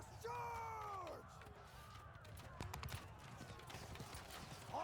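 Horses charge in the video game Mount & Blade II: Bannerlord, with a rapid clip-clop of hooves under faint battle noise and a few tonal calls.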